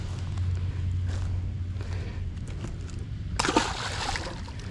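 A peacock bass in Miami released from the bank, splashing into the water with a sudden close splash and slosh after quiet water movement.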